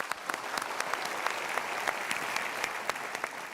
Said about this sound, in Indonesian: tapi kita berikan tepuk tangan dulu